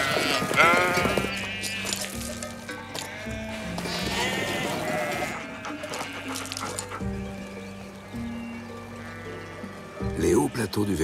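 A flock of ewes grazes on the high mountain plateaus of the Vercors, bleating loudly and close by in repeated overlapping calls, quieter in the middle before a final burst.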